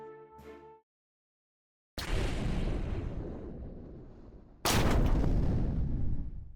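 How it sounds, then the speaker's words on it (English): Naval fleet opening fire as a sound effect: after a brief musical tone and a pause, a heavy booming salvo rolls on for a few seconds, then a second, louder blast follows and keeps rumbling. "I ordered the entire fleet to open fire."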